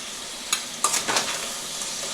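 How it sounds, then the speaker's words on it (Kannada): Spices including garam masala, pepper powder and turmeric stirred and frying in a pan, a steady sizzle with a few sharp scraping stirs near the start, close and alone. "ಇವಾಗ ಚೆನ್ನಾಗಿ ಮಿಕ್ಸ್ ಮಾಡಿ ಒಂದು 5 ನಿಮಿಷ ಕುಕ್ಕಾಗಲಿ ಇದರಲ್ಲಿ."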